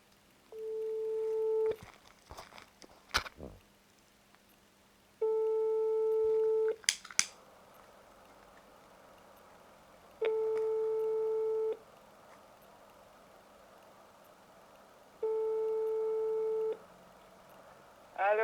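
Landline telephone call tones: four long steady beeps at even intervals, loud and near, with brief clicks and handset rustle between them and no talk.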